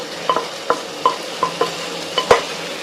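A ladle stirs pumpkin pieces cooking in a pan for pachadi, giving close, rhythmic scraping strokes about every third of a second with a faint sizzle underneath and no talking.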